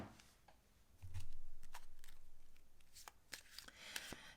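Tarot card decks are shuffled close by in quick, crisp riffles and taps, a flurry of papery slaps with a soft low rustle midway, no one speaking.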